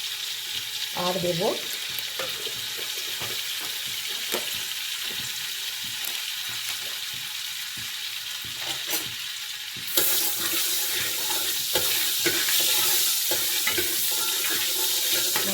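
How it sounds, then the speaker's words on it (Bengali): Whole cardamom pods and cloves sizzle steadily in hot oil as whole-spice tempering for chicken pishpash, with scattered stirring clicks and a brief voice early on; the frying grows louder and brighter around the ten-second mark. "গরম মশলা মানে গোটা এলাচ আর লবঙ্গ ফোড়নে দিয়ে দেব"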